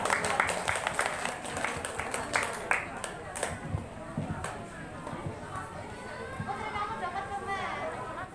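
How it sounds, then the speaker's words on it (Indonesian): Audience applause at an International Day of Persons with Disabilities celebration and family gathering, a steady wash of clapping for several seconds with scattered crowd chatter underneath. "Bisa minta tepuk tangannya semua?"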